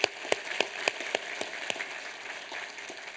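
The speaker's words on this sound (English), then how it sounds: "one more round of applause for both of those women." Audience at a business hall of fame ceremony clapping for two honorees, sharp distinct claps standing out over a steady patter of applause that slowly fades.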